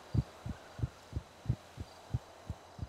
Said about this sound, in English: You have a really loud heartbeat.